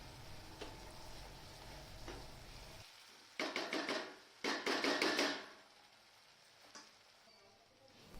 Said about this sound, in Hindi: इस तरीके से मैश कर दीजिए।